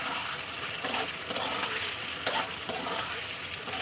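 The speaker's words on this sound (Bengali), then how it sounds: "এবার এই উপরে আমি টমেটো আর কাঁচা লঙ্কাটা দিয়ে দেবো দেওয়ার পরে আবার কিছুক্ষণ কষাবো" Tomatoes and green chillies sizzle steadily in hot oil for a fish curry, with a broad, continuous frying hiss broken by a few sharp stirring scrapes close by.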